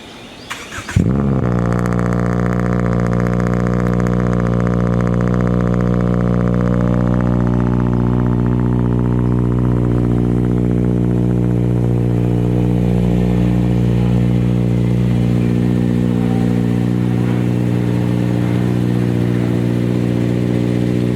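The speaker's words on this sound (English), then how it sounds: "Now it pops, sounds nice. Let's take it for a drive." A modified 2018 Subaru Impreza Sport engine fires up with a sharp start, then settles into a loud, steady, throaty idle that holds evenly for about twenty seconds with no talking.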